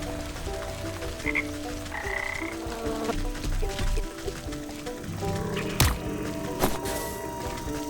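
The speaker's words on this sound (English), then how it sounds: "that's a frog." A frog croaks in the video game Wytchwood, a steady throaty croaking over layered ambient game music and water-like gurgles, with a few sharp clicks.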